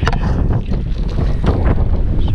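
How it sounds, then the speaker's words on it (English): Strong outdoor wind buffets the microphone in loud, rumbling, low gusts that swell and dip without pause, with no voices over it. "Sorry about the wind. It is really windy today."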